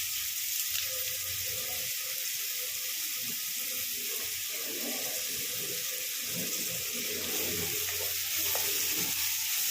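Onion, green chili and curry leaves fry in oil for spicy pepper chicken, giving a steady, close hiss that runs the whole time with no voices over it.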